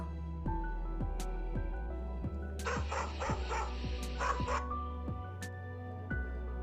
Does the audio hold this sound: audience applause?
no